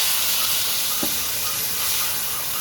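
Water poured into a frying taro and potato curry sends up a steady, close hiss and sizzle that fills the whole short stretch.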